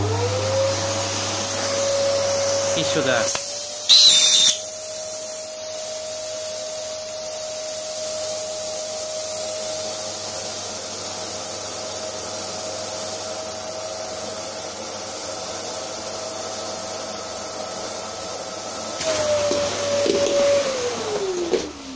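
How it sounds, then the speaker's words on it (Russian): A vacuum cleaner hums steadily for most of the clip after starting up, sucking air out of a vacuum storage bag, then winds down near the end; a brief clatter and a short spoken phrase come early. "Пылесос включаем."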